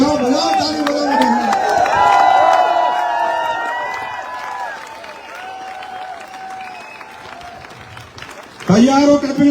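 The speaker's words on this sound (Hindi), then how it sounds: "बजाओ बजाओ ताली बजाओ।" An audience at a wellness product event applauds and cheers, dense clapping that swells then fades, with someone speaking loudly over it and a fresh burst of clapping at the end.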